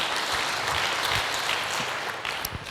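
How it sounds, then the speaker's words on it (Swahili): A church congregation claps together, a dense, steady roar of hands filling the room at even loudness throughout, with no voices over it. "Pigie Bwana makofi sababu hiyo"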